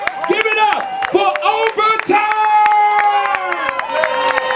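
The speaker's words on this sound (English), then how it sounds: "Start clapping your hands and make a whole lot of noise." A lively crowd at a hip-hop show in Ward 8 claps in sharp, regular beats while voices whoop and shout over the top, loud and close throughout.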